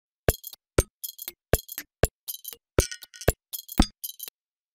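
Percussive bottle pops from the Reflekt Audio Bottle Pop instrument plugin: about a dozen crisp, glassy clicks and clinks in a quick, slightly uneven rhythm, dry and close, separated by clean silence.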